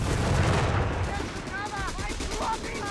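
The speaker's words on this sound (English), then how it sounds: "Quickly sweeping up the Panzer Pioneer with some heavy submachine gun fire up north." Heavy submachine gun fire in the WWII strategy game Company of Heroes 3, rapid gunfire mixed with explosions and battle noise, fairly loud and continuous.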